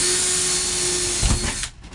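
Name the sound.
power drill with 1/8 inch bit drilling headliner support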